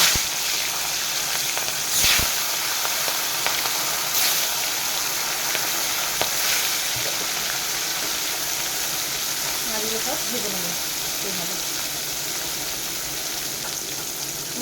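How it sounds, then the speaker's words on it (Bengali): Pieces of katla fish fry in hot oil in a pan, giving a steady, close sizzle and hiss with occasional clicks, and someone speaks over it briefly. "তেলটা আমার গরম হয়ে গেছে মাছগুলো এক এক করে দিয়ে"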